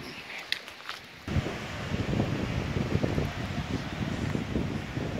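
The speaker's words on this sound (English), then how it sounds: "the wind is quite cold coming off the lake" Cold wind blowing off a lake onto an open shore, buffeting the microphone with a loud, continuous low roar and gusty rumble that starts abruptly after a brief, quieter moment.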